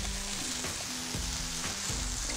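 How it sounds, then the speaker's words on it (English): Insects stir-fried in a pan make a steady, loud sizzle, with the spatula scraping through it in a few rhythmic strokes and no talk. "Best way to cook these critters is just good old fashioned stir fry."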